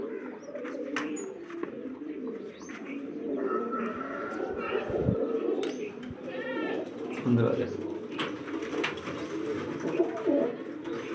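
Breeder pigeons of pure low-flyer breeds coo in a cage, soft rolling calls repeating close by throughout, with someone talking over them and occasional knocks and rustles.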